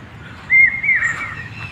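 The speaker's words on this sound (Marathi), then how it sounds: "पक्ष्यांचा आवाज पाहू शकता तुम्ही। शहरात असं पक्ष्यांचा आवाज कमी येतो।" Birds chirping at a farmhouse near Hyderabad, a clear close warbling call rising over quiet rural background, with a brief higher tweet partway through and no talking.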